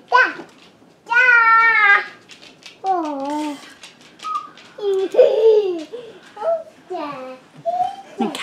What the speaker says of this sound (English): Oh, no, the cat is coming my way.